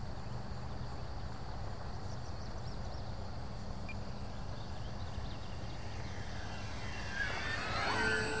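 An FMS P-39 Airacobra radio-controlled model plane of 980 mm wingspan flies at full throttle with gear retracting, a steady buzzing engine drone heard from a distance over outdoor noise, swelling slightly near the end.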